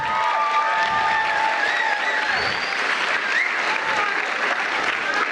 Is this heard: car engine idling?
no